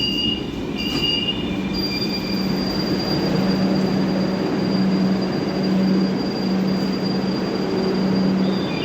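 Purple Line metro train pulling into Joka station in Kolkata, with steady rolling rumble, a sustained high wheel squeal and intermittent screeching tones as it slows, continuous and close throughout.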